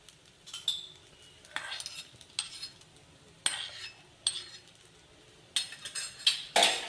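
Roasted peanuts stirred through pepper rice in a pan, a spoon scraping and clinking against the metal in short repeated strokes, close and fairly quiet with no talk.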